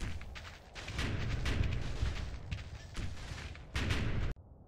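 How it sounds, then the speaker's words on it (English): German mortar rounds land in the World War II game Combat Mission: Battle for Normandy, a fairly quiet, continuous rumble of distant booms and blasts with no speech over it. "German mortars continue to fall."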